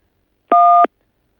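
A single telephone keypad tone on a France Télécom voicemail line, one short clean electronic beep of about a third of a second, loud and isolated in silence.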